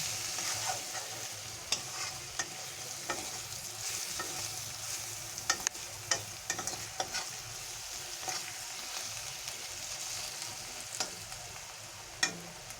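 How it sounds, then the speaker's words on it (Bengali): Spice masala cooks down in a pan for a restaurant-style chicken gravy, a low steady sizzle punctuated by scattered spatula clicks and scrapes over several seconds, quiet and close, with no one speaking. "এবারে এটাকে আমি ভালো করে আবারও দু মিনিট রান্না করে নেব"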